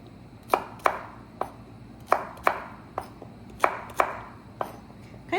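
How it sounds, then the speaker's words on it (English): Knife chopping food into small bite-sized pieces on a board, a series of about eleven sharp, close strikes at an uneven rhythm, with no voices. "we're gonna go ahead and cut these into smaller bits, kind of tiny bite-sized pieces"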